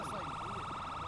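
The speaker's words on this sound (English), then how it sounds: "I'm gonna get my siren here." A police car siren wails inside the GTA 5 game during a roleplay police session, loud and continuous with a repeating rising and falling tone, and voices come through faintly underneath.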